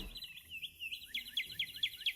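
Birdsong plays in the video game Marvel's Midnight Suns: a rapid series of high, thin chirps that repeats in quick, even bursts against a quiet backdrop, with no one speaking.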